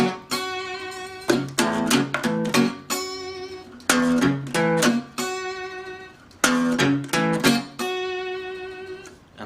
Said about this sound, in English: he does this walking blues lick